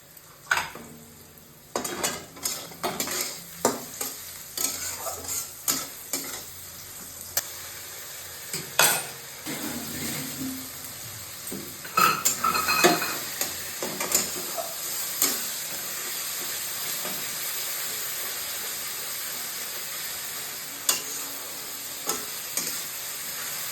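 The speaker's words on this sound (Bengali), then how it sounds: "আর রসুন ওটা একটু কষে নিলাম" Garlic, ginger and chopped onion sauté in a hot pan, giving a low continuous sizzle broken by intermittent scraping and stirring strokes of a spatula, with occasional louder clatters against the pan; no voices.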